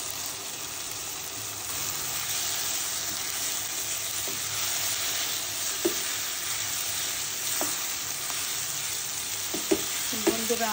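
Shredded meat frying in spiced oil, giving a dense, even hiss of sizzling broken by a few faint utensil clicks near the end.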